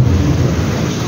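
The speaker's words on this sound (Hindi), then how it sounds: "क्या ही मौसम हो रहा है, बिजली रुक ही नहीं रहा" Thunder rumbles low and heavy through a dense, steady roar of pouring rain during a violent downpour, loud and close with no pause.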